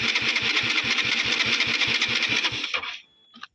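A used motorcycle engine idles close by with a steady, rapid thumping rhythm for a few seconds, then cuts off, leaving brief faint rattles.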